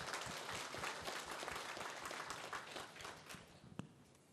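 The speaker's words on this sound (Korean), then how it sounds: "여러분 다시 한번 따뜻한 박수 부탁드립니다" An audience at a memorial ceremony applauds steadily for several seconds, a faint, distant patter of many hands with no voices over it, closing on one sharper clap.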